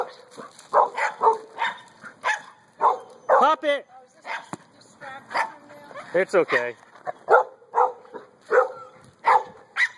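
A young, puppyish female dog playing with a thrown ball lets out repeated sharp barks and yips, close by and scattered between a woman's encouraging speech.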